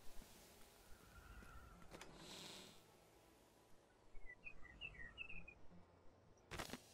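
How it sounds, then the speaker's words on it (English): A noisy bird sings outdoors, heard faintly from indoors as a few quick, high chirps over quiet room noise, with no one talking. "there's a really noisy bird outside that you may well be able to hear."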